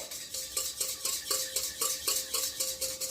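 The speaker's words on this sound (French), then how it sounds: "d'abord on dilue bien la levure dans le lait" Yeast is stirred into milk for soft chocolate-filled milk buns, a quick, rhythmic series of whisking or spoon strokes against a bowl, about four per second, close and clear with no voices.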